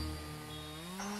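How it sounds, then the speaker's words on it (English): A chainsaw revs loudly in one brief sustained burst, its engine whine climbing in pitch toward the end. "The sound of the chainsaw started getting closer"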